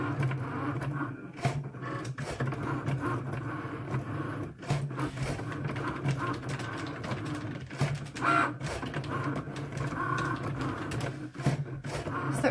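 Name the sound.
electronic cutting machine cutting out paper snowflakes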